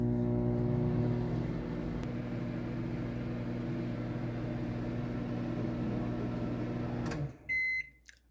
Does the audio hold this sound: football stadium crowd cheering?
no